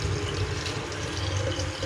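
Warm water runs steadily into a bottle, a constant close rushing pour that lasts the whole moment without a break, with no talking.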